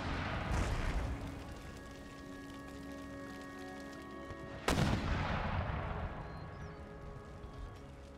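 Artillery in an Empire: Total War siege battle firing quicklime shells, heard as a dense, rumbling battle bed with one sharp, loud cannon blast partway through, followed by continued distant battle noise.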